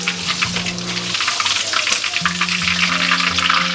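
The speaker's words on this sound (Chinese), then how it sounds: "我们继续炸第二锅。" Pieces of pork tenderloin deep frying in hot oil for sweet and sour pork give a steady close crackling sizzle, with bright popping bursts throughout and faint clinks underneath.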